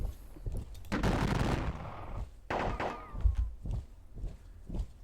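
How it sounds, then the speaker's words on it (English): Musket volleys in a Napoleonic battles strategy game set in the Peninsular War: a long crackling burst of massed fire, then a few shorter rattling volleys and thumps, fairly loud with no talking. "Seem to be doing more damage when we actually fire at them."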